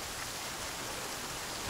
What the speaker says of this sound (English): it's still raining. It's still frickin' raining.